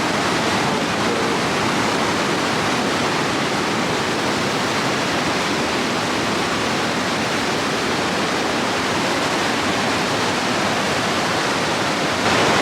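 Niagara Falls roars as a dense, unbroken wall of rushing water, loud and constant from the gorge-bottom boardwalk of the Whitewater Walk.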